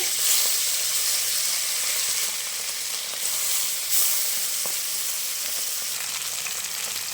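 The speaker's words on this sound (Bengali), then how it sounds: "মা এখন মাছ ভাজবে, তেল গরম হয়ে গেছে, মাছও ছেড়ে দিয়েছে।" Fish frying in hot oil in a pan gives a steady, bright sizzle that holds evenly throughout, with a few brief louder spatters and no voices.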